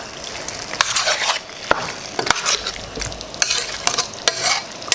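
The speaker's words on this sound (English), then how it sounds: "I'm just going to continue to stir it until it begins to stick" A spoon scrapes and stirs Trini curry catfish with mango in a pot, with repeated sharp scraping strokes over a steady sizzle of frying.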